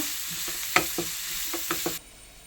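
Small onions sautéing in a pan, with a steady soft sizzle under a series of distinct stirring scrapes and taps that land irregularly over a couple of seconds, close and moderately loud, and no talking.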